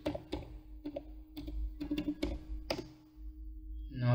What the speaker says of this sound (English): I am typing password.